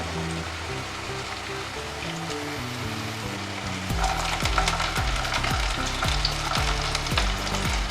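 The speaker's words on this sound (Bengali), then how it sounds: "এবার আমি চিকেনের টুকরোগুলো পরপর করে দিয়ে দেবো সাজিয়ে।" Chicken pieces hit a pan of frying onion and garlic for sukha chicken; a quieter sizzle jumps to a loud, dense crackle midway, with rhythmic stirring and scraping thumps close by.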